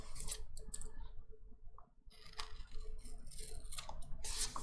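Scissors snip through washi tape in a few quick, crisp cuts and clicks, close up and quiet, with short pauses between the bursts.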